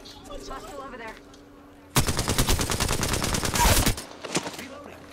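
Alternator SMG firing in Apex Legends, a loud two-second automatic burst of rapid, evenly spaced shots, preceded by quieter game sounds and followed by a few shorter shots after a brief pause.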